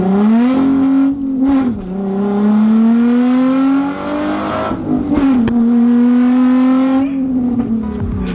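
A gutted, weight-reduced Nissan 350Z's engine roars loudly from inside the car as it accelerates through several gears, the pitch climbing steadily and dropping briefly at each shift.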